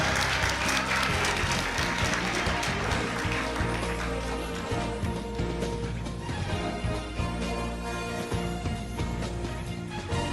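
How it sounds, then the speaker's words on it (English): Another round of applause breaks out for a prize-winning contestant at a live Jeopardy challenge event, a loud, dense wall of clapping that holds steady for about ten seconds with music or a low hum running beneath it. "Please give him another round of applause"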